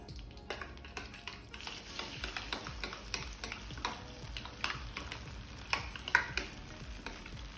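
Wheat flour pudding stirred in a pan as ghee is added, giving a steady run of soft scraping strokes over a light sizzle, close and fairly quiet, with no talk.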